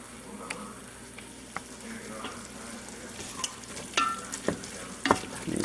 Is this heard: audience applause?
no